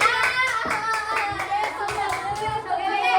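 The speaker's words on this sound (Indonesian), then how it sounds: "Tepuk tangan buat kelompok 5." A class of schoolchildren claps for group 5 in a teacher's practice lesson: a dense, continuous burst of hand claps close by, overlapped by children's chatter and voices throughout.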